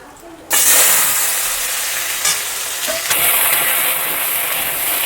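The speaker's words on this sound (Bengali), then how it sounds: "তো আমি আগে আলুগুলোকে একটু ভেজে নেব।" Potatoes dropped into hot oil for a Bengali bottle gourd dish burst into a loud, steady sizzle and hiss at close range, with a brief stir partway through.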